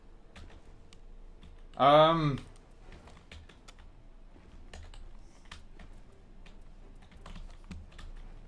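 Computer keyboard and mouse clicking in rapid, light taps during a video game session, steady and fairly quiet throughout, with a brief spoken word cutting in over it.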